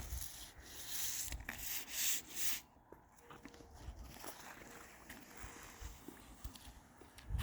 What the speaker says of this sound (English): sometimes you got to use the end of the brush to kind of cut it in and pull it in